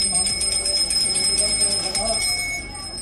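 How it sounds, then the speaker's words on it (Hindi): Temple bells ring continuously during aarti in the cellar at Gyanvapi, a steady shimmering clangor with overlapping metallic tones, loud and close, under voices and general commotion. "घंटियां बज रही हैं।"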